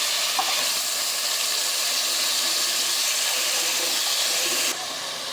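Green chilli paste frying in a pan for chicken curry, a loud, dense, continuous hiss and sizzle close up that drops slightly in level near the end.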